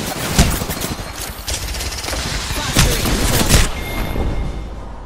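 Heavy gunfire in the mobile battle royale BGMI, dense bursts of shots with several sharp loud cracks, close and continuous for the whole stretch.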